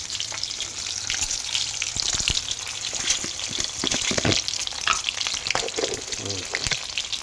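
Eggs fry in a pan with a steady crackling sizzle, broken by occasional stirring clatter and a few sharper spatters, heard close up with no talk.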